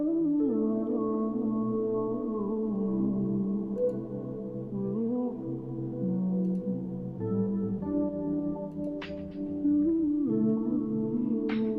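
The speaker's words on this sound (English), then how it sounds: "This is what the beat sounds like. It's an R&B beat." An R&B beat plays back with smooth sustained keys and gliding bass tones, soft ticking percussion and a few brief bright hits near the end, steady and mid-level with no voices.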